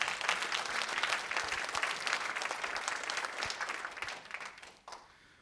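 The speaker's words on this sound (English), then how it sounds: "give yourselves a hand of applause" A conference audience at a disability empowerment event applauds with sustained, dense clapping that holds steady, then thins and fades out toward the end.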